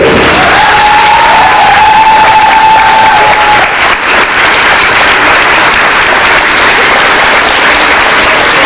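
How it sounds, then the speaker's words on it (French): Loud crowd applause and cheering at a student food-product competition, dense continuous clapping with shouts and whoops, a brief voice tone early on, filling the whole stretch at high level. "Applaudissez, craquez-vous!"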